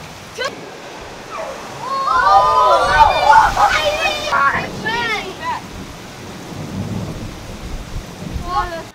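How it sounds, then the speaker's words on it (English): Heavy rain roars steadily with a deep thunder-like rumble, while excited voices talk loudly over the downpour. "It never rains like this, and I'm kind of scared."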